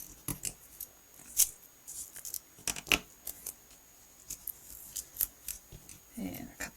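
Scissors make sharp, repeated snips through card while a birthday card is being made, crisp close cuts spaced irregularly as a person talks.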